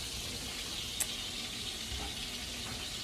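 Oil heating in a pan for hot water cornbread gives a steady, soft hiss of sizzling, with one brief light tap near the middle and no voices.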